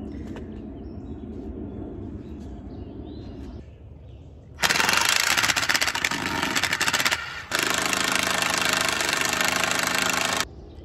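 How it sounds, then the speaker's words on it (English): A power driver runs anchor screws into the side of a garden bed outdoors, with two loud, sustained whirring bursts separated by a short pause, following quieter rustling. "I'm gonna screw anchor screws in here"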